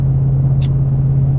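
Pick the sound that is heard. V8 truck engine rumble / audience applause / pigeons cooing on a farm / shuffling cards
V8 truck engine rumble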